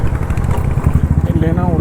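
A Royal Enfield Bullet motorcycle with a faulty front brake thumps away at low revs, a loud, close, rhythmic single-cylinder beat, with a voice talking over it.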